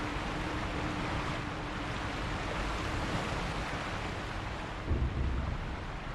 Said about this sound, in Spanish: El río de la catarata es tremendoso, es ensordecedor, imposible oír nada aquí